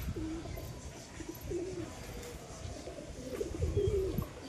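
Pigeons coo softly nearby, several low rolling coos repeating at intervals over quiet outdoor rustling.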